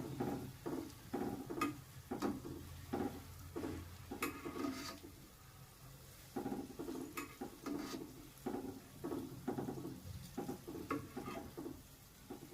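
Kachoris fry in oil as a soft, steady sizzle, heard alongside a rhythmic series of scraping stirs and faint clinks from the pan, quiet and close with no one talking.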